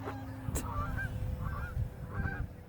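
Several geese honk in short bursts overhead, a few calls spaced across a couple of seconds against a low, steady rumble of outdoor noise.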